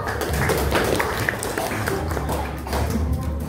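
A classroom applauds group 1, a dense wash of many hands clapping together at once, loud and continuous for a few seconds.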